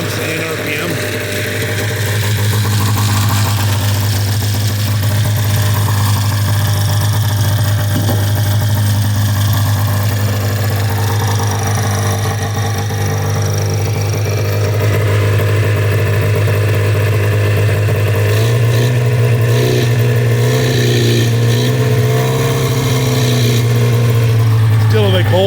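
A cold engine runs at a high idle, a loud, steady drone with a strong low hum that lifts in pitch and revs up in the final few seconds.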